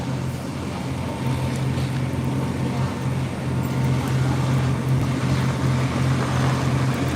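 A boat's fully enclosed engine runs with a steady, loud low drone, mixed with wind and water noise and no break throughout.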